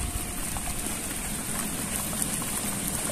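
Water from a swimming pool waterfall cascade splashes steadily, a dense continuous rushing hiss heard close and unbroken.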